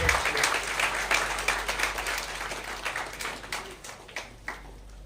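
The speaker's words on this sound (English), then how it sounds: "So let us give them a big hand" Applause from a conference audience at a scientific computing event, a steady wash of many hands clapping that carries on for about five seconds with no talk over it, gradually thinning toward the end.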